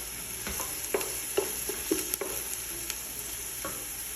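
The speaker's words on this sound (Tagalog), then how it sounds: "Kailangan lutuin natin yung sibuyas para yung amoy niya" Onions frying in oil with cinnamon and cardamom, a quiet steady sizzle broken by soft, irregular scrapes and taps of stirring.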